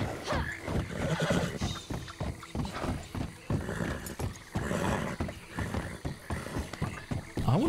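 A horse in Red Dead Redemption Online whinnies repeatedly over a steady clip-clop of hooves, with outdoor game ambience and no talking.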